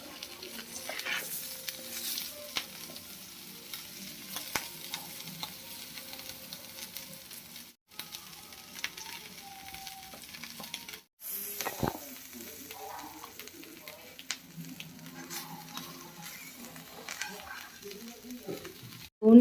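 Dabeli pav roasts on a hot pan with a low, steady sizzle, light scrapes and taps throughout, a few brief pauses, and faint background voices.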